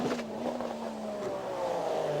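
Race car in a World Sportscar Championship race at the Nürburgring, flying down the long straight at just under 200 mph, its engine note a sustained high whine that shifts pitch as it passes, with a second car following.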